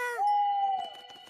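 A cartoon owl gives a long, clear, tonal hoot with a wavering pitch, heard alone and close with no talk over it.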